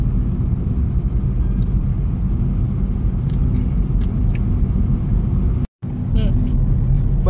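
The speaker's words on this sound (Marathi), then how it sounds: "बऱ्याच दिवसानंतर गाडी ड्राईव्ह करतोय" Steady low rumble of a car driving on the busy Katraj–Satara highway, heard from inside with constant road and engine noise, a brief dropout partway, and occasional faint sounds of passing traffic.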